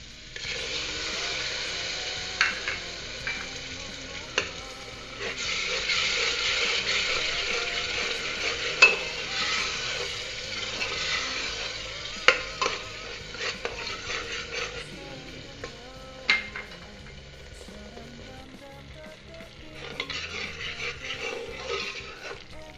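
Spiced masala with tomato purée frying and being stirred in a pan, a continuous sizzle that swells and fades, with scattered clicks and scrapes of the spoon against the metal and no voices.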